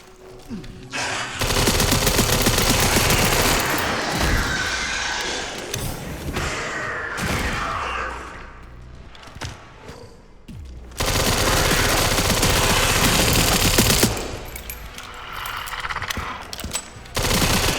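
Submachine gun fire in Resident Evil Requiem rattles out in loud, rapid bursts. The shooting is separated by short pauses and a few heavy thuds, with quieter gaps between the volleys.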